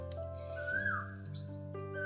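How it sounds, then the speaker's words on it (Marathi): A rising, slurred Asian koel call sounds once over a steady low hum, moderately distant, followed by a faint shorter whistle. "कोकिळेचा आवाज तुम्हाला आवाज येत असेल"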